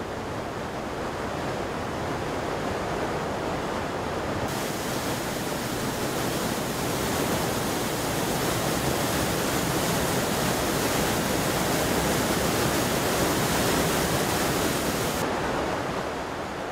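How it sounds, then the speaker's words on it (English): Water flows through the rocks of a cave in Samcheok, a continuous broadband rushing hiss that stays loud and even from start to finish with no voices. "An ample amount of cave water, whose source is unknown,"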